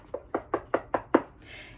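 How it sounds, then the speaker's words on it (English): Six evenly spaced knocks on a small wooden door, sharp and fairly close, landing in a steady rhythm and followed by a brief soft hiss, with no talking. "He knocked on the pretty little yellow door."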